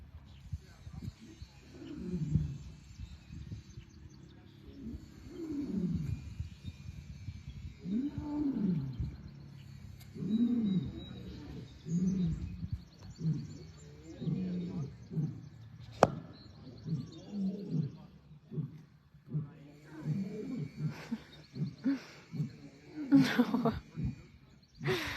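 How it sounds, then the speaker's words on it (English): Lions at a wildcat sanctuary give low, rhythmic roaring calls in repeated bouts, a chorus of grunting roars rising and falling over about twenty-five seconds, moderately close, with faint outdoor background and occasional sharper noises. "I was being quiet to listen to the lion songs"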